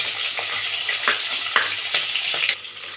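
Onions and green chillies frying in hot oil for soya biryani, a steady close sizzle broken by several stirring scrapes, with no talking.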